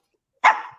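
A single dog, the one wearing a pink tutu, gives one short, loud bark close by, with no talking over it.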